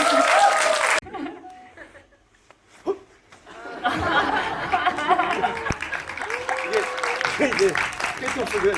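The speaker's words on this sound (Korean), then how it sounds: "박수 한번 부탁드릴게요" Studio audience at a cinema post-screening talk claps briefly at the start, then hushes; scattered laughter and murmured chatter rise afterward as people talk over the room.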